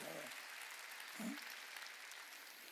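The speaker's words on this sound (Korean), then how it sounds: "박수 치라." A church congregation claps during a Sunday worship service, a steady wash of applause running throughout with a brief murmur of voices near the start.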